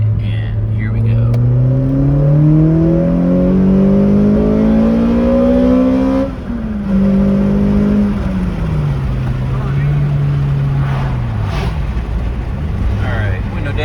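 With the window down, a 2005 Toyota Corolla XRS running an Injen cold air intake revs up in one long rising pull, drops back, then climbs and eases off again in a second shorter sweep, loud and close throughout.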